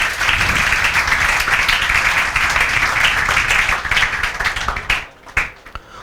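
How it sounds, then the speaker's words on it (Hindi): A class of students applauds with dense, steady clapping for about five seconds, then it thins out into a few scattered final claps. "शुभम तोमर के लिए फिर से बजाओ तालियां"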